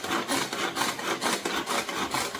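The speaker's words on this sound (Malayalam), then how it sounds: "നമ്മൾ കൊത്തി കൊത്തി കൊത്തി അരിഞ്ഞുകൊണ്ടിരിക്കും" Knife chopping curry leaf stems on a board, a fast, even run of close rhythmic strikes with a scraping edge, about four per second, with no talk.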